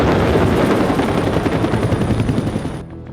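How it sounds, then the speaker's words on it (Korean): A police helicopter hovers low overhead above a labor dispute at the Ssangyong Motor plant, its rotor thudding loud and close in a dense, continuous pulsing roar before the sound cuts off abruptly. "경찰 헬기가"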